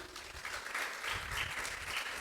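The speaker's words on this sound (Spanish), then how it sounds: "dale un fuerte aplauso al Señor" A church congregation claps steadily and fairly quietly throughout, a dense, even patter of applause during a Spanish-language sermon.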